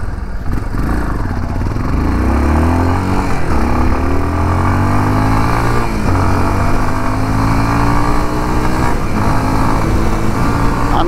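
A Honda Lander 250 motorcycle engine revs loudly and close, its pitch repeatedly sweeping up and dropping back in several blips over a steady idle, with no talk.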